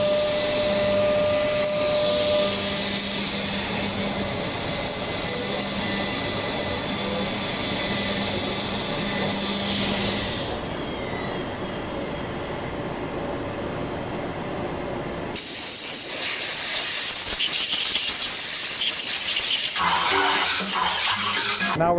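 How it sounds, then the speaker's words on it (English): A machine spindle spins up and cuts a brake cooling fan impeller for a scooter, giving a steady whirring hiss that drops away midway, then returns as louder, harsher machining noise. "The spindle spins up for 6 seconds, then the machining will begin."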